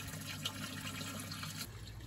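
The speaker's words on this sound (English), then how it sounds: "as it splashes back into the pond, it's still creating lots of oxygen" Water splashes steadily back into a fish pond from an anoxic filter outlet, a continuous close, moderately loud wash with a constant low hum beneath, no talking.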